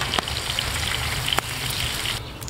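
Side dishes deep-frying a second time in hot oil, a steady dense sizzle and crackle throughout with a couple of sharp pops, close and fairly loud, then cutting off near the end.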